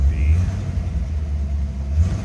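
A 1965 Ford Mustang convertible idling as it warms up, a steady low rumble close by, with a faint voice over it.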